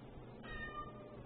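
A single soft cat meow, faint and brief, over quiet room noise.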